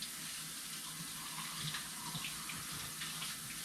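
Running tap water rinses carrot juicer pulp in a sink, a steady close hiss and splash that stays even throughout.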